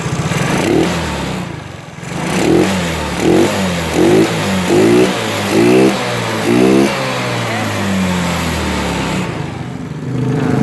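A motorcycle engine idles roughly and then takes a series of short throttle blips after an idle-speed adjustment, loud and close, with about six revs in a row before settling back to a steady idle.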